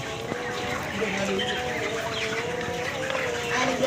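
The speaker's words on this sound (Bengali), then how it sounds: "এখন মুরগি ঘুমাইতেছে কিছু খাইতেছে" Hens in a poultry farm, 29-day-old birds, cluck softly and intermittently amid a busy farmyard murmur, with a continuous low background hum throughout.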